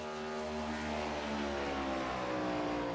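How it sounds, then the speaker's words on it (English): A race car engine in a racing video game at Nashville Superspeedway holds a steady, droning tone at high RPM for a few seconds, heard alone and moderately faint. "Listening to the car, the RPM specifically, he's not wound out like some of these other drivers."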